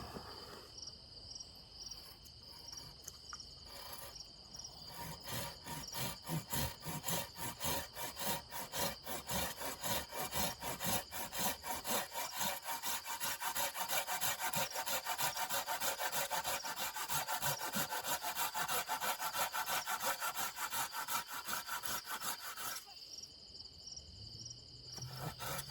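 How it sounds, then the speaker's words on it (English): A Silky hand saw cuts a dovetail notch in maple outdoors with quick, rhythmic back-and-forth rasping strokes that grow heavier midway, while crickets chirp steadily in the background. "I'm going to cut my dovetail notch."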